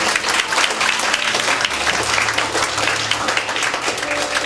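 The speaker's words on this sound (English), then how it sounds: "Let's give God a hand clap of praise." Church congregation clapping hands in praise during a service, a loud dense wash of many hands clapping continuously, with a low hum beneath.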